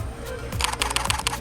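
Rapid burst of shutter clicks from a Fujifilm X-T30 camera, a quick run of crisp, evenly spaced mechanical snaps held close to the microphone with no talking.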